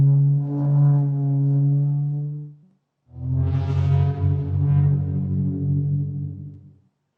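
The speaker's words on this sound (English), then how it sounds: "pitched it really low, added modulation and effects to get that monstrous sound." A game sound effect for a monstrous creature, made from a chair scraped across a floor and then pitched very low and modulated. Two long, deep, droning groans with a harmonic tone are separated by a brief silence.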